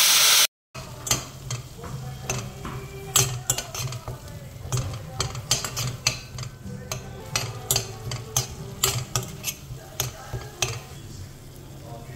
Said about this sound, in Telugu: వెల్లుల్లి ఎర్రగా ఫ్రై చేసుకుందాం